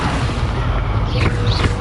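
Incendio fire spell cast in the Hogwarts Legacy video game, a dense, sustained whooshing burst with booming low rumble and swirling rising tones, continuous and loud for the whole moment.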